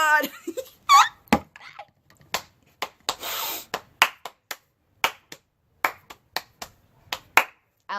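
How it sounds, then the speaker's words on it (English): Sharp hand claps and snaps ring out close and loud in an uneven rhythmic pattern, interspersed with short vocal sounds and laughter at the start. "I like this clapping thing"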